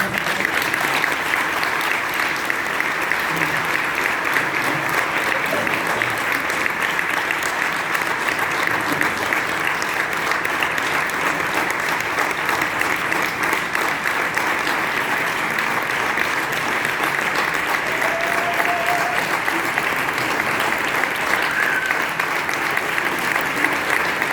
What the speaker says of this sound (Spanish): Os voy a pedir un aplauso.